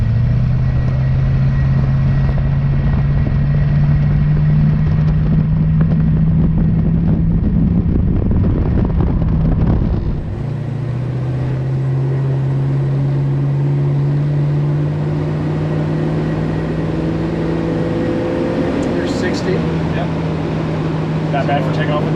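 Small-block 350 V8 in a 1966 Chevy Nova SS clone pulling hard on a test drive, a loud steady engine drone that rises in pitch, then drops and climbs again as it shifts, with wind noise and voices talking.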